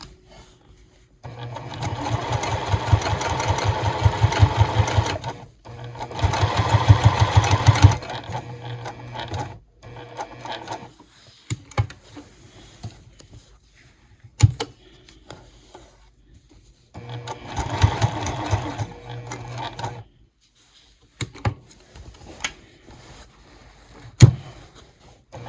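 Sewing machine running in steady bursts while top stitching the straps of a fat quarter tote bag, each stretch of rapid needle chatter separated by pauses for pivoting, with a few sharp clicks and thumps between runs.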